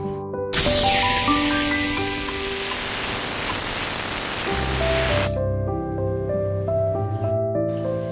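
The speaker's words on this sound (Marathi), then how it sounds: "कुकरान घातल्या आणि आता 2 शिट्यो काडटा" A pressure cooker on a stove with dal releases a loud, steady rush of hissing steam for several seconds, cutting off abruptly, with quieter musical background tones before and after.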